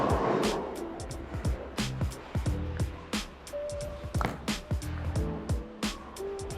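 Rubicon UC2 bowling ball thrown down a lane, with a series of sharp knocks and clatters and a low rolling rumble; the sound is fairly close and comes in repeated bursts, while a voice talks faintly underneath.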